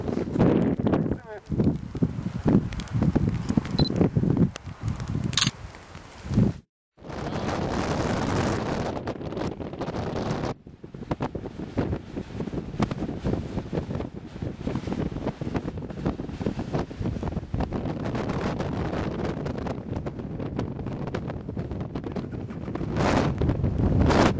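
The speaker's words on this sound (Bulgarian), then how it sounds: "Само да не духаше този вятър, щеше да е перфектно." Strong wind blows during a 2009 motorcycle trip to North Cape, by a deep bay on the Arctic Ocean coast in changeable rainy weather. It makes loud, continuous roaring buffeting against the microphone, with one brief drop-out partway through.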